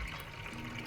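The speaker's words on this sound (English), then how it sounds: "So firstly we put in lukewarm water to our line." Lukewarm water pours into a bread-making bucket in a short, steady, close-up splashing rush that lasts about a second, with no voices.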